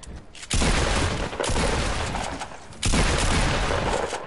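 Shotgun fire in a video game squad match: three loud, heavy blasts roughly a second apart, each with a long ringing tail, close and dominant.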